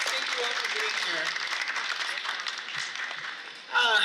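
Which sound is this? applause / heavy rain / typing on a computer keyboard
applause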